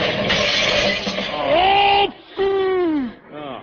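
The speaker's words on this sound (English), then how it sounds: "Look out for that car." A car sound effect from an old-time radio drama near-miss: a rushing engine roar gives way to loud, close, rising and falling screeching wails that cut off abruptly, with a fainter wail trailing at the end.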